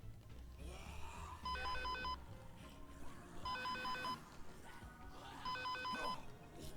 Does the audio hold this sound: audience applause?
no